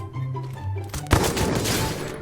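Explosion skill unleashed in a video game, a sudden loud blast near the middle cut through ongoing game music and effects, then dense crackling, rumbling bursts that keep going to the end.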